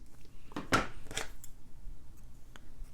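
Scissors snip a quilling paper strip in a few sharp, crisp cuts close up, followed by faint clicks of the blades in a quiet room.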